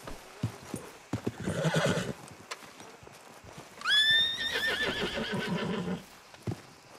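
A stallion in Red Dead Redemption 2 gives a loud rising whinny that trails off, with soft clopping hooves and shuffling before and after, close by.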